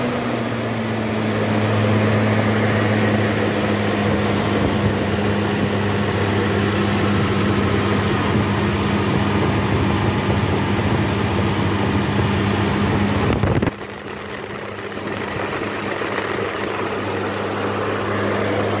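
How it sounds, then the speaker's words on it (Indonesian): A Toyota Innova petrol engine running at high idle after repair work, a steady close droning hum with a constant low tone that holds for a long stretch before dropping abruptly to a quieter idle. "mesin udah hidup normal cuman RPM nya tinggi"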